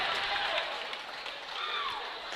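A crowd at a boys' high school basketball game cheers and claps in a dense, continuous roar of voices and applause, with whistles rising above it.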